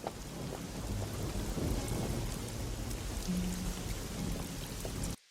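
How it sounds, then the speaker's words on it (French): Steady, heavy rain pours down with a dense hiss, continuous and close, with low rumbles beneath. "il pleut comme ça d'un coup, ici"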